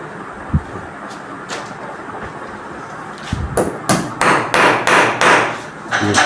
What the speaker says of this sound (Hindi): ये कील जो लगे हुए थे पहले वाले, उनको अंदर ही दीवार के अंदर कर रहे उसका।